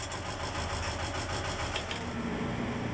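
An enclosed lifeboat's engine runs steadily, a continuous rapid mechanical chugging and rattling heard close and even throughout, with no talk.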